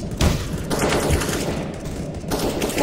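AK rifle fire in Counter-Strike: Global Offensive, several rapid bursts of loud close shots in quick succession with little pause between them.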